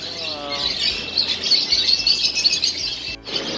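Birds at a pigeon and lovebird market chirp and tweet close by, with rapid, overlapping high calls and an occasional squawk over a steady low background hum.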